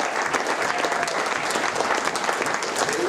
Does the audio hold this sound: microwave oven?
no